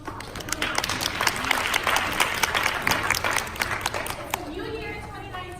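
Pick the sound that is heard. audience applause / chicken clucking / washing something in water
audience applause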